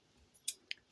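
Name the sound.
scissors cutting paper corners for an album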